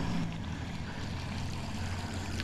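Steady splashing, churning water noise from a buzzbait fishing lure retrieved through water runs continuously, with a low rumble underneath; no voices, just a constant wash of water sound.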